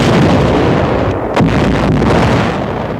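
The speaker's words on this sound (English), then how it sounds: ".88mm guns slowed up our landings and imperiled the entire beachhead operation." Heavy 88mm artillery guns fire in a WWII newsreel, a loud, dense barrage of booming blasts and rumble with one sharper report standing out midway, all heard as old, saturated newsreel audio.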